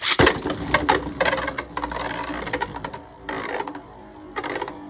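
Hasbro and Takara Tomy Beyblade Burst Bushin Ashura/Ashindra tops launched from a dual launcher clash in a plastic stadium, with a burst of sharp knocks followed by rapid rattling, scraping spins and repeated collisions, close and loud.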